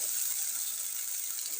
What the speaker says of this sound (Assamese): এতিয়া ইয়াত সৰিয়হখিনি দি দিম। দি ভালকৈ অলপ লৰাই ল'ম।